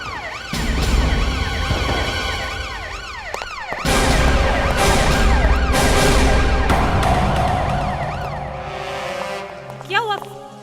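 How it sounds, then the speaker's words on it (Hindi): A wailing CID bureau siren in a Hindi crime drama cycles steadily for about ten seconds, loud and close, with voices talking over it and a short sharp burst near the end. "ये तो हमारे ब्यूरो का सायरन है।"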